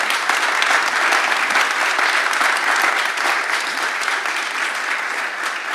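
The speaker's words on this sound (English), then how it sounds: "So please join me in giving Sean and our panel a big round of applause here." An audience applauds a panel at the close of a business panel discussion, with loud, close, continuous clapping from many hands that stays thick and even throughout.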